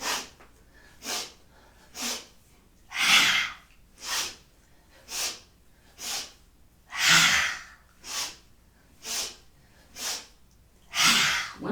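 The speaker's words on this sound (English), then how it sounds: "we'll come into breath of joy. Inhale low, inhale side, inhale up, and exhale." Breath of joy yoga breathing: a long series of loud, close, rhythmic breaths, with short sharp inhales alternating with stronger, longer exhales roughly every second, alone without speech.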